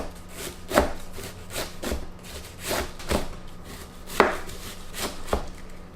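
A knife chops purple cabbage finely for coleslaw on a board, a series of crisp, close, irregular cuts with short pauses between strokes.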